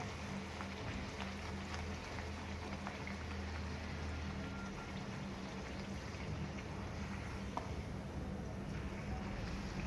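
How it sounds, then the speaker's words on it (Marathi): Puris deep-frying and puffing up in oil in a kadhai, the oil having gone in cold, giving a steady, dense sizzle and bubbling that holds evenly from start to finish. "मी तेल हे कच्चेच घातले होते मोहन, तरी सुद्धा पुऱ्या अशा छान फुगत आहेत"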